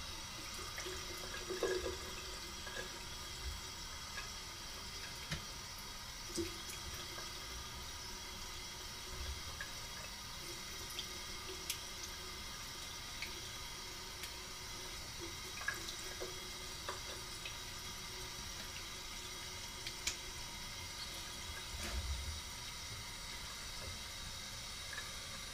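Cold water running steadily from a tap into a bathroom sink during shaving, a constant close hiss and splash with a few faint clinks and drips, no talking.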